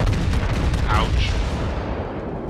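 Warship guns in World of Warships fire in a dense rumbling burst of booms with low, heavy blasts mixed together, loud and close, followed by a fading rumble.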